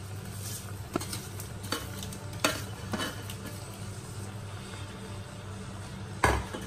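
A spoon stirs fried coconut through a pot of koottu curry, the Onam sadhya dish, scraping in scattered strokes with a few louder knocks of metal on the pot over a steady low sizzle, with no voices.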